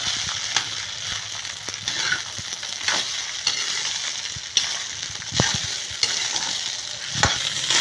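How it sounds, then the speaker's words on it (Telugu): Cooked rice fries in hot oil over a high flame for egg fried rice, giving a continuous loud sizzle with periodic scraping and stirring clatters from the pan. "నూనె వేడయ్యాక రైస్ని డైరెక్ట్గా ఆయిల్లో వేసుకోవాలి."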